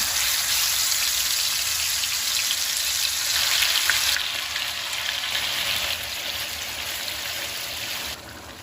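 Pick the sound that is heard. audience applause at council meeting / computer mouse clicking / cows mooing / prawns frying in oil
prawns frying in oil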